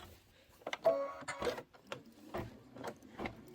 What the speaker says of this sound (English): I'm not even going to go back 10 stitches just because this is a placement stitch